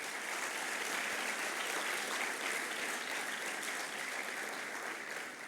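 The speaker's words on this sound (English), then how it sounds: "let's have a big round of applause for all the graduates" A convocation audience gives the graduates a steady, full round of applause, a dense, even wash of many hands clapping that holds for several seconds with no voices over it.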